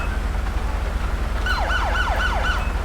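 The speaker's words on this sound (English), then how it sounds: "Oh, I just found out how to do the sirens on the keyboard." A police vehicle siren in a video game starts partway through, wailing in several quick rising and falling sweeps over a steady low engine rumble.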